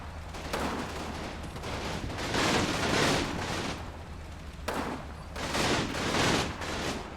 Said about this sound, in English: Despite the hail of machine gun fire pinning down most of the section